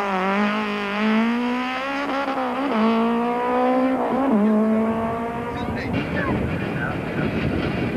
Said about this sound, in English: It takes some skill to get the four-wheel drive cars round the tight course, and Goethe, like Dabner, gets things a bit